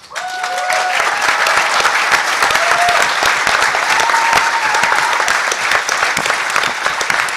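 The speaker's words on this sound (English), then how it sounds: "For those of you who don't know why they're applauding" Audience at the HOPE 2008 hacker conference breaks into sustained applause during a talk on social engineering, a steady dense clapping that starts abruptly and holds at full strength with no voices over it.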